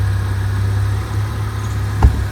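The 1.5 litre petrol engine of a Tata Harrier idles on a cold start with a steady low throb and faint vibration, close by, with one brief thump near the end.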